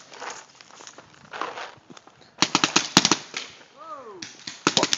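Paintball guns fire on an outdoor paintball field in a fast run of sharp pops and quick volleys, starting after a quieter stretch of shuffling, with people shouting nearby.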